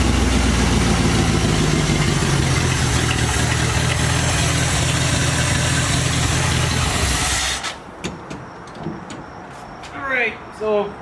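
A 1973 Dodge truck engine idling loud and steady just after its first start, a dense low rumble that cuts off abruptly partway through, leaving quiet clicks, shuffling and a voice speaking.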